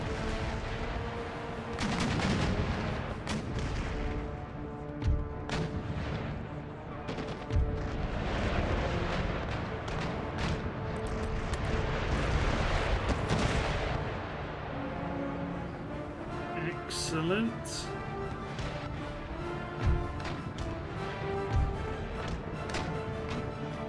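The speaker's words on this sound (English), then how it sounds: "So these ships can just fire round shots." Ship cannons firing round shot in the naval battles of Empire Total War boom repeatedly, distant and near, over a continuous rumbling battle din with scattered crackling shots.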